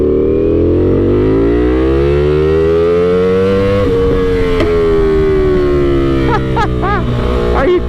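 A very loud motorcycle, billed as the loudest, accelerates hard through a couple of gears, its engine note rising, dropping at a shift midway, then climbing again, close and dominant.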